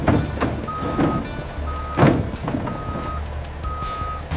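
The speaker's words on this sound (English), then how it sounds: "The trucks haul tons of fruit from the rural orchards to the industrial processing facility" Trucks hauling peaches from rural orchards to a processing plant, with a regular reversing beeper sounding about once a second over engine rumble and clanks, close by.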